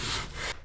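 Sandpaper wrapped around a wooden block rubs steadily across a boat's hull bottom in one brief, close, rasping stroke that eases off near its end.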